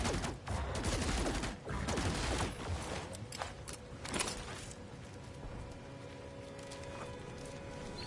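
Weapon fire at creatures in the space exploration game No Man's Sky: rapid, close bursts of shots crackle through the first few seconds, then thin out into a softer mechanical hum.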